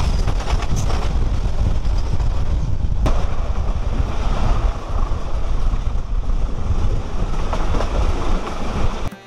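A passenger train running from Dhaka to Kishoreganj in Bangladesh, heard from inside the carriage as a steady loud rumble with rattling and clickety-clack from the rails throughout.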